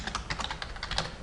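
Quick, light keystrokes clatter on a computer keyboard in a steady, close run, fairly quiet and with no voices.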